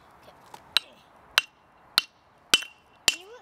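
A hammer strikes a geode five times in a steady rhythm, each hit a sharp, bright clink with a brief ringing tail, close and loud. A faint voice is heard between hits.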